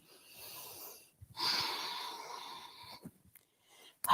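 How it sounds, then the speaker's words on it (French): Breathing during a Pilates exercise: a soft, airy inhale, a pause, then a longer, louder breathy exhale close to the microphone, ending with a sharp breath at the end. "et j'expire. Inspire. Expire."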